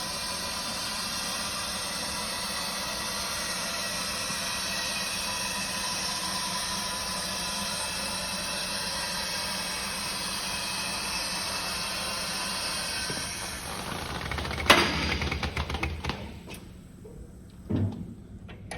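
A two-post vehicle lift descends with a steady, loud hydraulic hiss and hum that runs for about fourteen seconds, then stops with a few clanks and knocks as the hoist settles.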